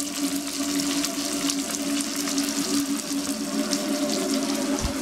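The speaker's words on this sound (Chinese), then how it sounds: "带鱼快煎好了。" Hairtail fish frying in a pan in a home kitchen during a bitter northern winter, a steady broadband sizzle with a low hum running continuously and evenly throughout, fairly loud and close, no talking.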